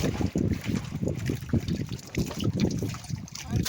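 Sea waves slosh and wash steadily around a boat on open water, with gusty wind noise throughout at a fairly constant level and no clear talk.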